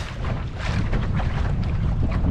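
Strong wind roars across the microphone aboard a lugger sailing boat, a dense, loud, continuous rumble and buffeting with no pauses.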